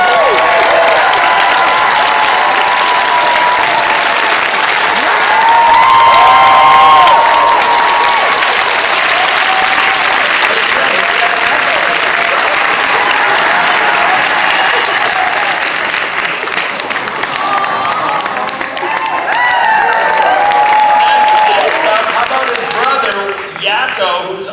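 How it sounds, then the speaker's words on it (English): Convention crowd at Dragon Con applauding and cheering for voice actor Jess Harnell, a long, loud, sustained roar of clapping and whoops with shouts and talk threaded through, briefly swelling and then tapering. "Big round of applause,"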